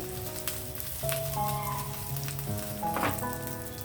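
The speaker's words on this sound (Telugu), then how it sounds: "చూడండి, కరివేపాకు వేసిన తర్వాత చిటపెట్టలాడుతుంది, చూసుకోండి." Curry leaves crackle and sizzle in hot oil while tempering with cumin, mustard seeds and dried red chilli, a steady close frying hiss with scattered pops and a tonal hum in the background.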